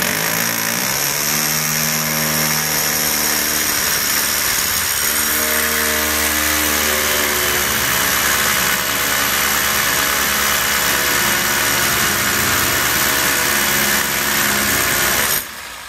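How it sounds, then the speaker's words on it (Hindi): A power drill fitted with a 24 mm bit bores holes sized for 22 mm coins, its motor whirring loudly and steadily throughout with shifting pitch before cutting off abruptly at the very end. "इसमें जो हमने ड्रिल बीट इस्तेमाल की है वो है 24 mm की"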